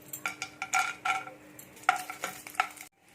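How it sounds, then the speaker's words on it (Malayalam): Cashew nuts frying in ghee for palada payasam, heard as a series of close metallic scrapes and clinks of a spoon stirring in the pan over a soft sizzle, ending abruptly. "നെയ്യൊഴിച്ച് അണ്ടിപ്പരിപ്പ് ഒന്ന് വറുത്തെടുക്കാം."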